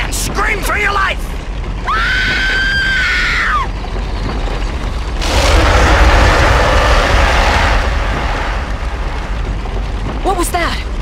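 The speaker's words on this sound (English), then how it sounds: "Scream, Anne! Scream for your life!" A woman named Anne screams on a film set in a King Kong video game, a long sustained high shriek followed by a loud rumbling eruption, with shorter cries at the start and end.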